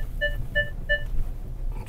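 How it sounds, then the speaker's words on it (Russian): A device inside a vehicle gives three short, evenly spaced electronic beeps, clear and close over a low engine hum, then falls quiet. "Чё ты пикаешь?"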